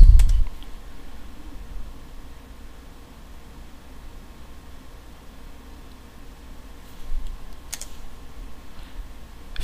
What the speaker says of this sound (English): Just press Y and hit Enter.